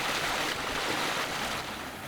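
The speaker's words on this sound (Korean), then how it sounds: "개울물이 시원하게 흐르고 있네요." Stream water in a pine grove park flows along an artificial channel between stones, a steady broadband rushing and babbling, close and continuous with no voices.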